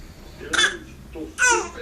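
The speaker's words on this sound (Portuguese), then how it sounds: "Ai, tá com tosse." A baby gives two short, throaty coughs, close by, with a brief pause between them.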